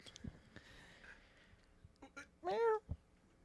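A cat lets out one clear meow at close range amid soft room noise and scattered breathing or shuffling sounds during a casual indoor podcast.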